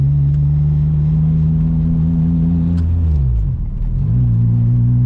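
An ITR-swapped Honda Civic EP3 drones steadily from inside the cabin while driving, a loud, low, constant engine hum that dips briefly as revs fall and then settles back to a steady tone.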